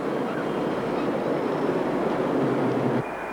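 A train rumbles past in a steady, continuous roar with a low rolling drone, loud and unbroken for about three seconds before dropping slightly at the end.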